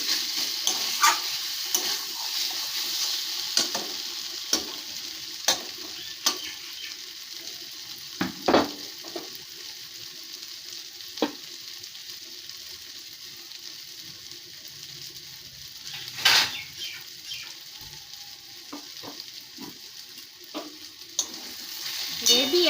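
A wok of frying food, likely vetki stalks, stirred repeatedly: continuous close sizzle broken by scraping strokes and occasional metallic knocks of the spatula and pan, with no one talking.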